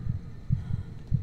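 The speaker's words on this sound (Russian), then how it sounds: "У меня сердце бьется, потому что рядом охотник." A heartbeat thumps in Dead by Daylight as the killer draws near, low doubled throbs repeating at a steady pulse over a faint hum.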